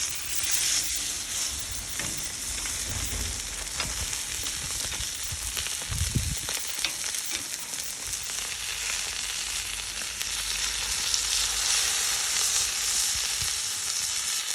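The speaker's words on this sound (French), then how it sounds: "On la fait bien saisir sur toutes les faces, y compris les tranches" A thick beef rib steak searing in a hot pan, a loud, steady sizzle throughout with a brief thump as it is turned, the crackle rising again toward the end.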